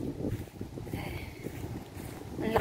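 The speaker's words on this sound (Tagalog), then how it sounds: "Ang lakas ng hangin." Strong wind gusts buffet the microphone outdoors at Jurong Lake Gardens, a steady broadband rush with low rumbling throughout, loud and close, with faint background voices.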